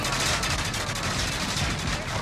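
Dense, continuous gunfire in a shooting video game, rapid overlapping shots and bursts forming a loud, unbroken barrage with no gaps.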